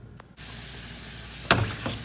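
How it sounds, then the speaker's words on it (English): Shrimp cooking in a pan with garlic and butter give a steady, close sizzle that runs on after a brief quiet start, with two short sharper spits or scrapes near the end. "Shrimp, garlic, butter, salt, and pepper. And blaze them in the pan just till they're cooked."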